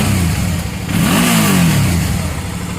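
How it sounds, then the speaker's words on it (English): A 2007 Suzuki V-Strom 650 motorcycle on its stock exhaust revs once, the engine note rising and falling over a steady idle, loud and close with no talk. "sound of my V-Strom with stock exhaust, 2007"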